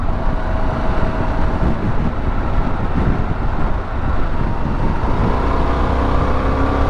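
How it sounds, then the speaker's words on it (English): A 2022 Harley Pan America 1250 Special motorcycle rolls on in sixth gear from about 4,200 RPM, its engine drone steady and loud under heavy wind rush, with no voices. "I'm going to try to get a little distance here and do a 6th gear roll on and see what happens."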